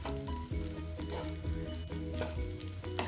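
Vegetables stir-fry in a pan for fried rice, a loud continuous sizzle with regular scraping strokes from stirring, no talk.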